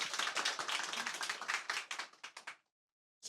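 A small audience clapping at a startup tech event in Korea, a short burst of sharp hand claps that thins out and stops after about two and a half seconds.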